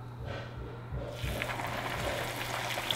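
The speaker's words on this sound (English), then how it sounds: "I'm gonna start frying up the egg rolls." Egg rolls frying in a pan of hot oil, a steady low sizzle and bubbling hiss that swells after the first second and keeps going, fairly close and unbroken, with no talk over it.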